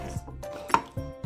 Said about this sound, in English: With my celery, I just rinse it off and then I slit it down the middle